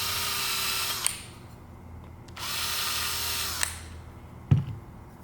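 A power drill runs in two sustained bursts, each about a second long, as it clears pin holes in a 3D printed revolver part, with short pauses between them and a sharp knock near the end.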